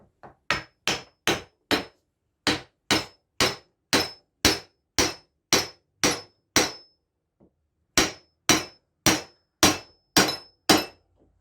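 Steel hammer tapping a bearing home into a mandrel held in a vise: sharp, ringing metallic strikes in quick bursts of four to six evenly spaced blows, with brief pauses between groups, close and loud with no talking.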